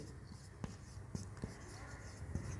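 Chalk or marker tapping and scratching on a board during a math lesson on circle segment area, faint scattered strokes with a few sharper taps in a quiet room.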